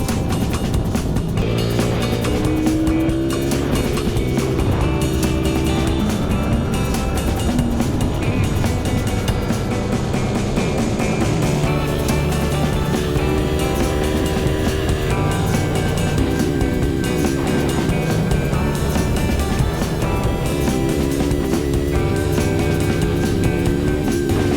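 Motorcycle engine on a small YCF dirt bike, running loud and close throughout with a steady buzzing drone and revs rising and falling, and no talk over it.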